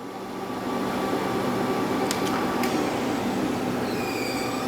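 Spindle of a TRAK three-axis CNC bed mill, model DPM-SX2P, turning in low gear at 200 RPM: a steady, loud mechanical whine and hum with brief faint high squeals, no voices.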